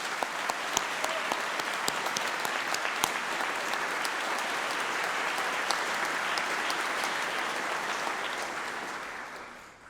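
Sustained applause from a large audience at a University of Manchester graduation ceremony honouring the graduates, a dense, even wash of clapping that holds steady for about ten seconds and then fades at the end.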